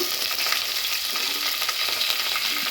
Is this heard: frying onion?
yes